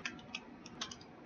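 Keys are tapped on a computer keyboard in a quick, uneven run of light clicks, faint and close, with no talking.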